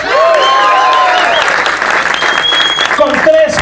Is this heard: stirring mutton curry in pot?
no